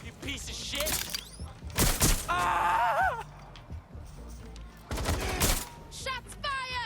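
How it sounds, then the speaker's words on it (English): Gunfire erupts in the video game Watch Dogs Legion, with two loud, harsh bursts of shots separated by a lull, mixed with gasping and groaning voices. "Shots fired!"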